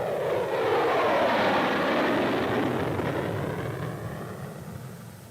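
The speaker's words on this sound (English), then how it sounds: "Takeoff roll is about the same as for current Century Series flights." A jet aircraft roaring along on its takeoff roll, a loud broad rumble with a sweeping tone that peaks early and slowly fades as it recedes.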